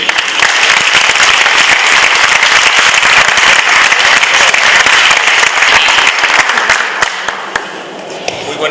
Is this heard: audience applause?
yes